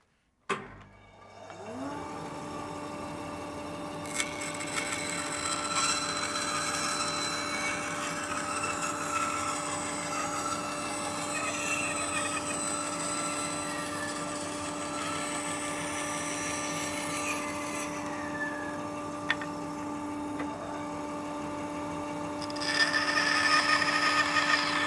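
A band saw runs with a steady hum and whine while cutting a wooden blank for a turned spatula, the tone shifting gradually as the blade works through the wood, with a brief start-up at the beginning and no talking.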